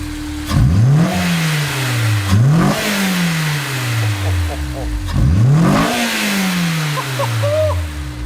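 Honda S2000 engine fitted with a new intake, sports catalytic converter and exhaust revs hard three times in quick succession, each blip rising sharply then falling back toward idle, loud and close.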